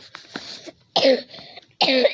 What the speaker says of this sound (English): Yeah, you get coughed on.